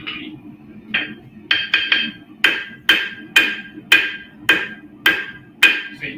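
Hammer blows on hot steel at the anvil while forging Damascus, about ten sharp metallic strikes at a steady rhythm, close and loud, with ringing after each hit over a low forge hum.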